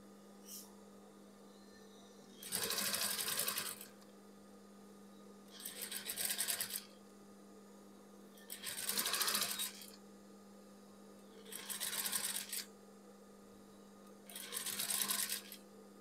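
A sewing machine stitches a shirt collar in five short bursts, each lasting about a second, with quiet pauses between them over a faint steady hum. No one speaks.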